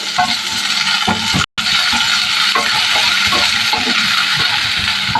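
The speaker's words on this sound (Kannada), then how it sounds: "ಬಾಣಲಿಗೆ ಎಣ್ಣೆ ಹಾಕೋತಾ ಇದ್ದೀನಿ 2 ಸ್ಪೂನ್ ಅಷ್ಟು. ಬೆಳ್ಳುಳ್ಳಿ ಹಾಕೋತಾ ಇದ್ದೀನಿ." Garlic fries in about two spoons of oil in a pan, a loud, close, continuous sizzle broken by a short silent gap, with a few soft stirring knocks throughout.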